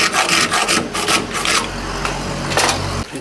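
Steel blade stock for a handmade Anatolian Tapan knife being cut to remove its excess, a steady rasping, grinding cut close by with repeated strokes and no talk.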